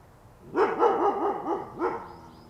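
A neighbor's dog barks in a quick run of several yaps, then two more barks after a brief pause, fairly close and loud.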